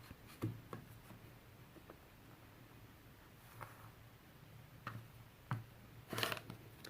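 Fabric edge being trimmed for a quilt label on a cutting mat: a few faint, sparse snips and clicks spaced a second or so apart in a quiet room, with a low hum underneath.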